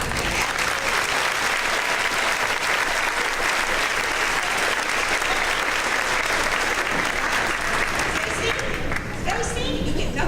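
An audience at a school promotion ceremony claps steadily and loudly throughout, a dense, continuous wash of applause with no break, thinning slightly at the very end.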